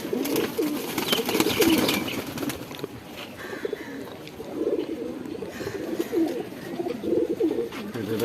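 Black-necked female pigeon cooing in soft, repeated rolling phrases close by, with brief wing flutters and faint background sounds between the coos.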